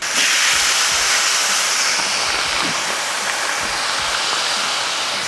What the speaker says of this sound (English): I'm gonna get ready to throw down some of these marinated ribeye steaks